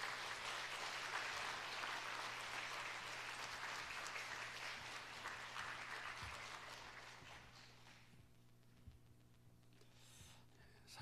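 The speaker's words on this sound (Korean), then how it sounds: "우리 박봉남 장로님 나오실 때 우리 뜨거운 박수로 모시겠습니다." A church congregation at a Wednesday evening service applauds as an elder comes forward to speak, a dense, sustained round of clapping that fills the room and then thins out toward the end.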